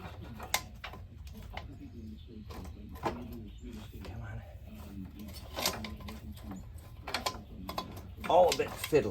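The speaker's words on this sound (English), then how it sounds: "I'm going to put the chain around the sprocket." A motorcycle chain is worked around the sprocket of a 1978 Honda CB400 by hand, giving scattered close metallic clicks, rattles and ratcheting taps, with some quiet talk in between.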